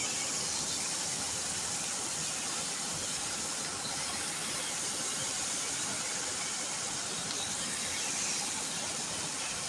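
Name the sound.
sautéing mustard seeds and masala in coconut oil in pan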